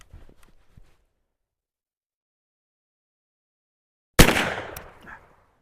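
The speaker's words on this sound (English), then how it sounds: "This is going to be shot 1 with 40 grains, 2F triple shot" A muzzle loader firing a patched ball over 40 grains of 2F Triple Seven powder: after a few seconds of near silence, one sharp, loud report cracks out and its echo fades over about a second.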